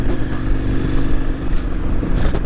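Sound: KTM 990 Adventure S motorcycle accelerating

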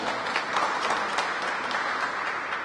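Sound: audience applause

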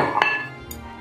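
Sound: pouring sugar and softened butter into a bowl

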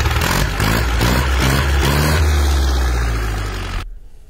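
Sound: Massey Ferguson 185 tractor engine

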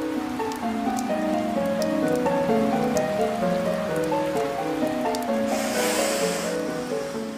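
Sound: rain

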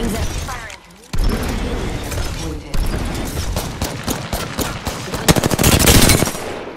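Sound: gunfire in the Apex Legends video game

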